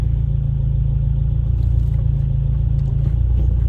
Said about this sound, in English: Right now we're heading on the highway just to show you this VTEC crossover.